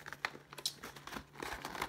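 Cardboard packaging from a case of Yu-Gi-Oh Duel Overload card boxes crinkles and crunches in short, close bursts of handling, with a faint steady hum underneath and no talking.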